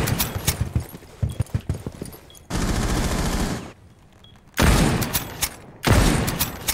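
Rapid bursts of gunfire in the tactical shooter video game Rainbow Six Siege, loud sharp volleys in several clusters with brief pauses and a sustained noisy stretch between them.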